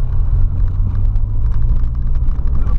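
Volkswagen Polo engine fitted with an aftermarket intake and air filter, a steady loud low rumble idling continuously and close by, with no talk over it.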